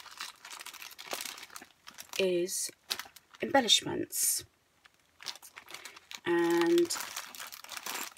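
Craft supplies such as embellishments and frames crinkle and rustle inside a zippered mobile craft bag, in sharp close bursts of crumpling packaging between stretches of someone talking.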